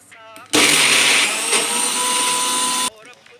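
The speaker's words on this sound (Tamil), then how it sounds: "இதை கொஞ்சம் கொரன்னு அரைச்சிக்கலாம்" A mixer grinder coarsely grinds chana dal, dried red chilies, fennel and salt in one loud, steady burst of motor whir and rattle lasting about two seconds, starting and stopping abruptly, with quieter sounds before and after.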